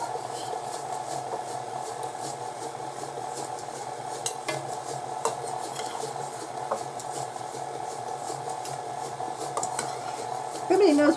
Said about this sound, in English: Beating the egg yolks one at a time